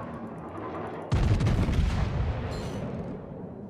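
Heavy battleship gunfire in the naval combat game World of Warships: a sudden loud broadband boom erupts after a quieter stretch, then rumbles on with sustained roaring energy and a smaller crack near the end.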